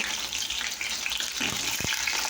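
Pointed gourd pieces fry in hot oil, a continuous close sizzle with a few small pops and spits.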